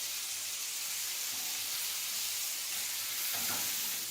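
Frog legs browning in butter in a pan produce a steady, bright hiss and sizzle throughout, close up, with a faint scrape of movement near the end and no talking.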